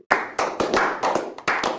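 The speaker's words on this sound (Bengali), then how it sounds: "সবাই হাততালি" A short burst of applause from a group of students in a classroom, several rapid overlapping claps close by, lasting under two seconds.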